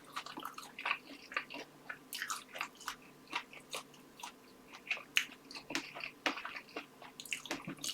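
Spicy pizza, the So Hot level-3 variety, being bitten and chewed close up, with wet crunchy bites and steady mastication in an irregular rhythm and no talking.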